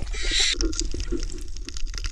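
A bird calls near a pool at an outdoor spot, with a brief bright chirp at the start and then scattered softer calls over a steady low rumble of background noise.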